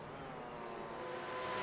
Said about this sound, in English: I'm loving the sound of these new cars.